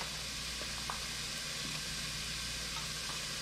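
Onions frying in a pan for breakfast, giving off a steady, close sizzle with faint stirring clicks and no talking.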